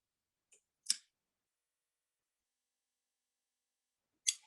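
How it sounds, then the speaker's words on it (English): Fabric scissors trim a dress facing and zipper tape, making a few sharp, close snips spread apart with quiet gaps between them. "So just trimming that facing one, which is the one with the interfacing on it, in half."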